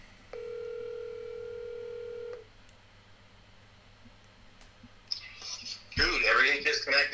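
Outgoing phone call: a single steady ring-back tone sounds for about two seconds, then quiet line hiss and a click, followed by a burst of noisy, muffled speech.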